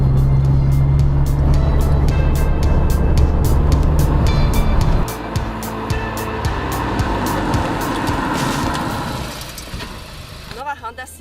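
A Honda Civic Type R with a turbocharged 310-horsepower engine drives past, a loud mid-pitched engine roar with rhythmic pulsing that shifts and fades toward the end.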